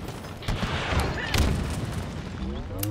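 Enemy gunfire in the Halo Infinite video game, a dense burst of booming shots and blasts rolling continuously for a few seconds, loud and close.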